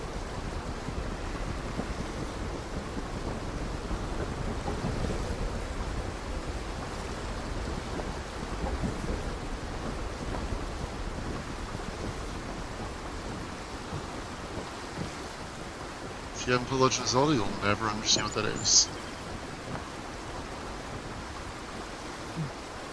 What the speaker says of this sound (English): I hate it when it rains because you can't see anything.